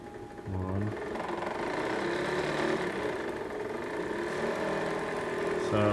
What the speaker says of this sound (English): You can hear the motors turn on, and then if I turn this knob, you can see the spindle is spinning.